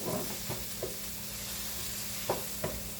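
Homemade spaghetti sauce is stirred in a pan with tomato paste, giving a soft, even sizzle and a few scattered spoon scrapes at close range.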